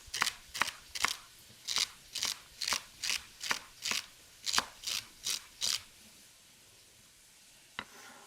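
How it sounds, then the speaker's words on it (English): A knife dices lined-up celery stalks on a cutting board in a home kitchen, giving about a dozen crisp, evenly spaced chops close up, then a pause and one last faint tap. "Let's chop the rest of our celery."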